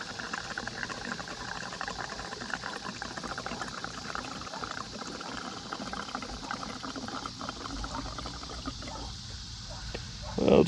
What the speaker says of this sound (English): we're just gonna put some conventional 10W30, nothing fancy, don't take much. It's in a weird spot, so you gotta have a big long funnel